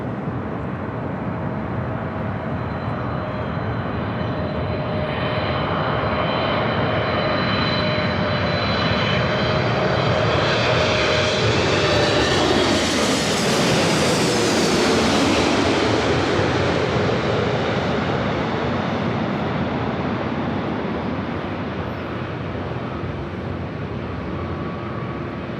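United Airlines flight 198 at Los Angeles LAX passes close by. The loud jet roar builds steadily, peaks with a sweeping pitch drop as it goes past at mid-clip, then recedes into a fading rumble.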